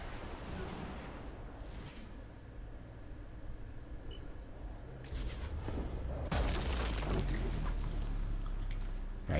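Shotgun blasts in the video game Saints Row 4, a few heavy booming shots with broad bursts after a quieter stretch, over a rumbling game background.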